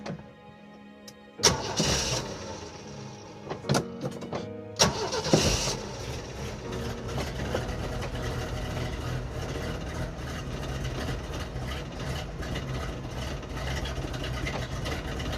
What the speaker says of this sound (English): I'm going to start it and see what the brake booster does